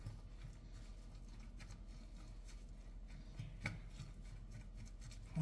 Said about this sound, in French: Je vais commencer à mélanger un petit peu.